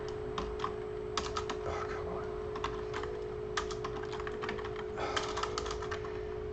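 Typing on a QWERTY computer keyboard during game programming: steady, irregular bursts of quick key clicks over a constant electronic hum, close and moderately quiet.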